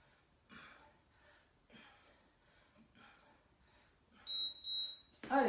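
A workout timer in a home exercise session sounds a high electronic beep that pulses briefly near the end, loud and clear after quiet breathing and movement.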